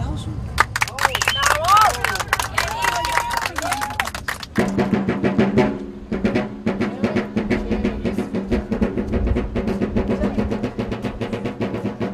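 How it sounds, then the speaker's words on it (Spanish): An audience at a talk on nomadic travel in Colombia claps in scattered, uneven bursts under continuing speech, with a voice heard at first and a busier stretch of clapping and murmur later on. "Un aplauso."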